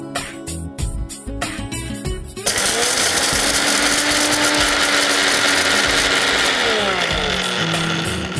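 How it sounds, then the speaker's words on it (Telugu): A mixer grinder grinds roasted lentils to powder. It starts with a few short stuttering pulses, then holds a loud, steady, close whirring roar that runs to the end. "ముందుగా మనం పప్పుల్ని గ్రైండ్ పట్టేసుకున్నాం"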